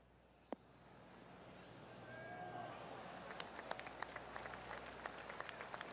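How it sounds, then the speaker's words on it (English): Applause from a golf gallery in the PGA Tour 2K21 video game, a soft, distant patter of many hands clapping that swells and continues steadily, with a brief sharp click near the start. "That deserves a golf clap."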